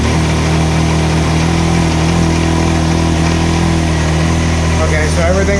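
A Can-Am Maverick X3 side-by-side engine, its clutch housing repaired, idles steadily and loudly up close with a constant low hum, while people talk nearby.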